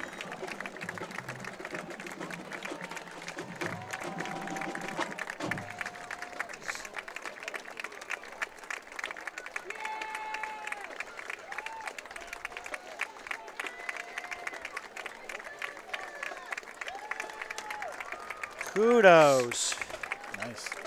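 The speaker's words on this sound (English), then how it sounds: "Yes, well-deserved applause." A stadium crowd at Grant Field applauds the Salem marching band with scattered, moderate clapping and cheering, while people talk close by throughout.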